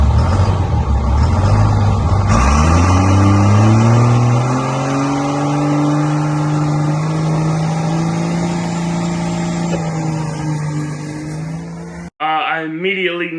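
A drag race car launches and accelerates down the strip, its engine note climbing steadily and loud from near to farther away, with a brief break near the end.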